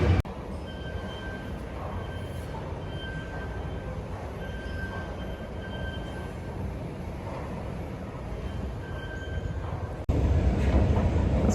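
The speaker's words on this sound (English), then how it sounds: "you can see the train that I'm gonna get this time" Subway train rumbling through a station, a continuous close, loud roar of wheels on rail with a faint steady whine above it and a sharp jump in noise near the end.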